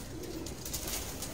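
Pigeons coo in a loft over a steady hiss of background noise, one low soft call near the start with faint bird sounds around it.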